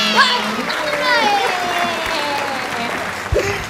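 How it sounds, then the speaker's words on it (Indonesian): A film crew claps and cheers behind the camera during an Indonesian mukbang shoot, moderate applause under overlapping voices and background chatter. "nanti ya ditepuk tangan ya"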